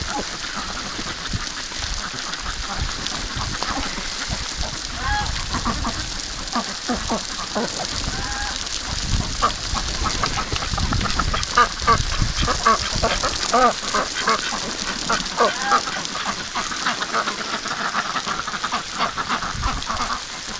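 Wintering Dalmatian ducks and geese quack and honk continuously around their bath water, a loud, busy chorus of overlapping calls close by with occasional speech mixed in.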